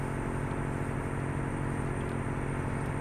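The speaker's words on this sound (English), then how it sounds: "You can hear the truck struggling" A heavy truck engine labors up a hill in American Truck Simulator, a steady loud low drone with no change in pitch and no talk.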